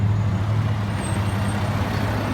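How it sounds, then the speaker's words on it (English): A heavy snow plow truck rumbles past close by during a blizzard, a loud steady low engine drone that holds through without breaks. "Here's a plow."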